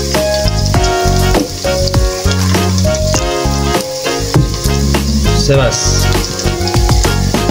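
Meat sizzling and frying in a pan while being stirred, loud and close, with continuous crackling and clattering scrapes of the spoon throughout and a voice speaking briefly.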